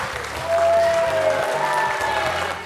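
Studio audience at the Questions pour un champion quiz applauding champion Flavien, a full, continuous burst of clapping that swells briefly, laid over a sustained musical backing.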